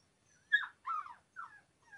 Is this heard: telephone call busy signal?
no